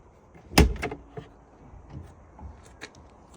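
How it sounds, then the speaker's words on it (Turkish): A 2023 Citroen Ami's door opens with a sharp latch clunk, followed by a few lighter knocks and rattles as the door swings, fairly close and with no talking. "Kapı bu şekilde açılıyor."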